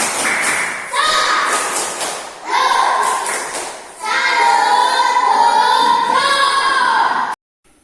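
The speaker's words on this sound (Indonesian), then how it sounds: "Sekali lagi, tepuk salut." A classroom of students in an Indonesian school lesson performs the 'tepuk salut' clapping chant, with loud rhythmic clapping bursts and children's voices chanting in unison, repeated in several rounds.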